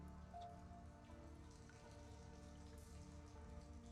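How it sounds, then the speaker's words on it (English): Faint, steady rain pours down into a sewer, a soft continuous patter and wash with no voices. "The sound of rushing water is beyond the rain pouring down into here."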